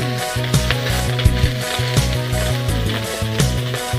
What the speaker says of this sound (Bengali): আর এখন আমি কমপ্লেট মাছ সমড়াচ্ছি